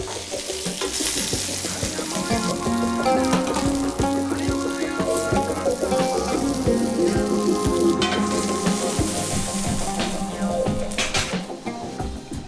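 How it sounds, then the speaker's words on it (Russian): Steady sizzling of lamb legs frying in a hot pan, a continuous crackling hiss with music playing over it throughout. "обжариваем для того, чтобы придать поверхности мяса особую фактуру"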